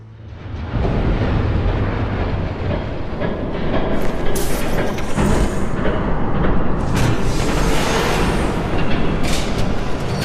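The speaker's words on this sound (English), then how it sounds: "There's a train coming." A train rumbles past in a Batman Telltale Series cutscene, a loud continuous roar with rattling and hissing bursts that holds steady for about ten seconds without any talk.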